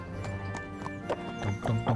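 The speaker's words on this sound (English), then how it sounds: "Horse hooves on wood. Horse hoof on mud." Horse hooves clop in Kingdom Come: Deliverance, a quick irregular run of hoof strikes on wood and mud, moderately loud over a steady game ambience.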